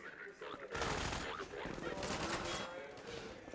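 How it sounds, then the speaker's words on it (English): Shotgun and other gunfire in the game Half-Life 2, a dense burst of loud blasts and impacts that runs almost the whole time, with some talk underneath. "All right, shotgun."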